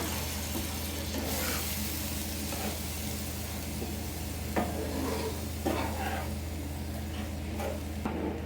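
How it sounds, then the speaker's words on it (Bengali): Spiced vegetable masala for a vegetarian okra curry is stirred in a pan after water is added, giving a steady low sizzle with soft scraping strokes and occasional sharper clinks, close by with no talk. "আমি জল দিয়ে দেবো। এখন নেড়ে নেব।"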